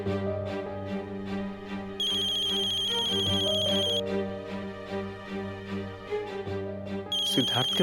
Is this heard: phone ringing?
yes